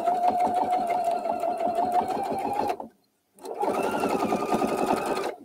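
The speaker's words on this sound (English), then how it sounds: "I'm just going to throw caution to the wind and start sewing here" A sewing machine stitching a quilt runs steadily at a fast, even rhythm, stops briefly, then resumes, close and loud with no talking, while the bobbin thread is catching.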